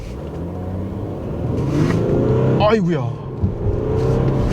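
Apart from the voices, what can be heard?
Audi A7 50 TDI quattro V6 turbo diesel accelerating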